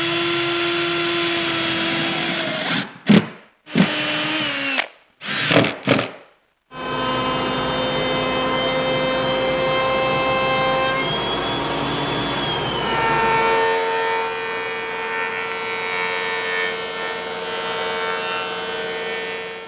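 A router with a pattern routing bit trims wooden mold pieces against a master template: a few short whining bursts, then a loud sustained high-pitched motor whine that shifts pitch as it cuts, close up with no voices.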